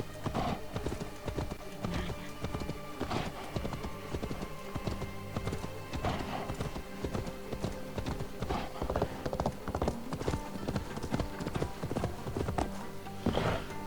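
A horse's hooves clip-clop steadily in the video game Assassin's Creed Valhalla, a close, continuous rhythmic trot with occasional snorts and game ambience behind, and no talk.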